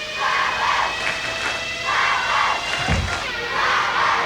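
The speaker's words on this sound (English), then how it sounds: "The crowd chanting in the background." Crowd chanting and shouting in rhythmic waves at a 1996 school game show maze event, steady and fairly loud, with a brief low thump near the end.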